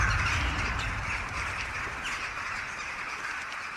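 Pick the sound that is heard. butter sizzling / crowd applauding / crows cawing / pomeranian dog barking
crows cawing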